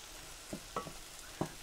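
Peppers and onions frying in a pan, a faint continuous sizzle broken by a few soft scraping and stirring knocks.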